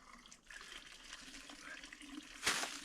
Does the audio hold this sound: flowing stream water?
yes